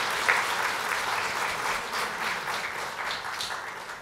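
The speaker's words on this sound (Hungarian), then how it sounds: "még egyszer egy tapsot kérek Sterner Andrásnak." A seated audience at a gala civic program in Dombóvár gives a sustained round of applause. It is steady, dense clapping heard at a moderate distance, with no speech over it.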